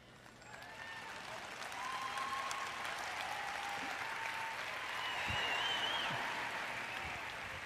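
Steady applause from an audience fills the whole stretch, swelling slightly partway through, with a few faint whistles and crowd murmur mixed in.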